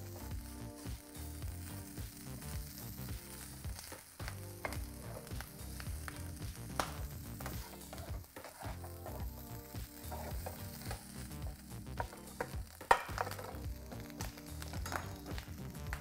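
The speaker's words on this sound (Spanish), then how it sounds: "tenemos ya nuestra tocineta picada que vamos a saltear un poco" Chopped bacon sautéing in a frying pan, a dense, continuous crackling sizzle that stays loud and close throughout, with occasional stirring scrapes.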